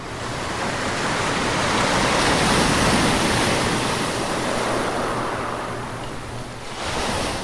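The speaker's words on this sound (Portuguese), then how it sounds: "ouçam o som da onda" Ocean waves surging onto a sandy shore, a continuous loud roaring wash that swells and eases slightly, with no voices.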